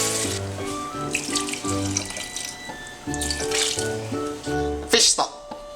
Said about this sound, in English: And put in some water.